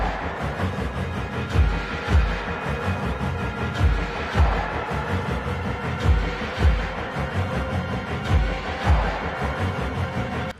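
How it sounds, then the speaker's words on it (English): Horror music from the Amnesia: Justine video game soundtrack: a dense, churning wall of dark dissonant texture with low thudding pulses recurring every second or so, tense and unrelenting throughout. "That song is technically from Amnesia Justine, but it's on the Dark Descent soundtrack"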